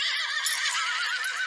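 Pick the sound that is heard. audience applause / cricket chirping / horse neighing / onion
horse neighing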